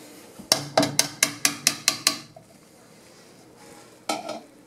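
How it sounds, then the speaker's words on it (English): Homemade liquid laundry soap being stirred in a pot, heard as a quick run of about seven sharp scraping knocks, then a pause and one more short burst, with no talking. "Keep stirring. And stir that all in there. Stir it in there really good."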